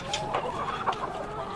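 Chickens cluck in a coop, with several short bursts from more than one bird over a continuous busy barnyard murmur, close and fairly loud.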